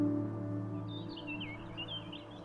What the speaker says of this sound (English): the occasional call of a distant bird